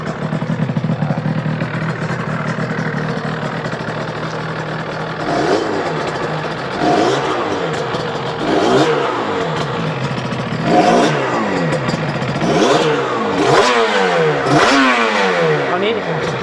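A Yamaha TZR250 two-stroke motorcycle engine catches and idles, then is revved in several sharp rising bursts, each falling back, with the crackling two-stroke note close by and loud.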